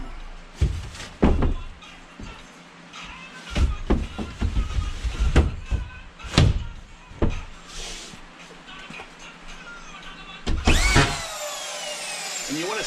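A screw gun drives screws through drywall into a ceiling, giving short, sharp whirring bursts spaced irregularly between knocks and handling thuds, with a faint steady hum underneath and a high whine near the end.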